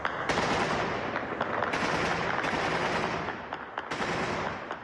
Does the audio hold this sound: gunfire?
yes